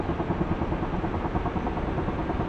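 In the DCS flight simulator, a Ka-50 helicopter's engines spool up during startup, a steady, fairly quiet whirring drone with a faint rhythmic rotor pulse.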